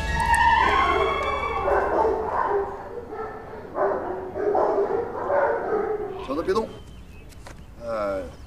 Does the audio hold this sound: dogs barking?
yes